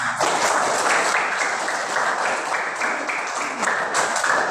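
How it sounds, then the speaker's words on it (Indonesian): A short burst of group clapping from many hands in a third-grade classroom, dense and lively, fading slightly before a final flurry. "tepuk tangan untuk kalian semua"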